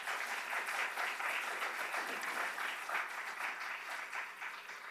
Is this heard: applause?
yes